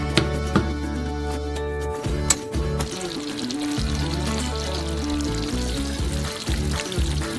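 Corn syrup and water caramel cooking in four pots at once on a stove, with a steady frying sizzle and bubbling throughout, broken by a few sharp clinks and knocks of pots and utensils, close and fairly loud.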